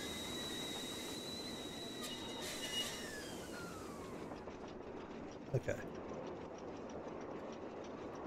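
A train rolls along in a Nancy Drew mystery game, with a steady low rumble, faint wheel squeal and clacking, and a brief spoken word over it.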